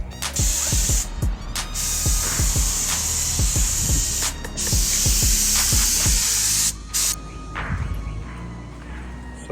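Clear coat is sprayed from a paint gun inside a paint booth onto car parts, a steady close hiss broken by short pauses between passes, with low thumps and mechanical noise underneath.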